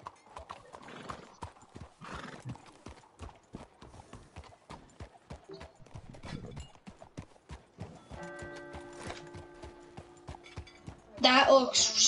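Horse hooves clip-clop in a steady walking rhythm in the Red Dead video game after rain, with a neigh near the end and light background game ambience.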